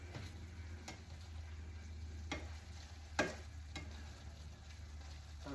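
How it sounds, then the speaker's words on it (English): Ground beef with egg frying in a pan gives a faint steady sizzle while a utensil scrapes and taps now and then as the meat is stirred. "Just move this beef around so it doesn't burn."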